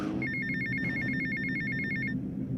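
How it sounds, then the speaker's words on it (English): A phone ringtone trills in a rapid repeating electronic pattern for about two seconds, steady and moderately loud over low background rumble and music. "Your phone's ringing, man."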